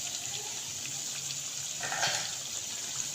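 Potato chip pakora fry in hot oil, giving a steady, close sizzle with a soft bubbling hiss throughout and a slightly louder burst near the end.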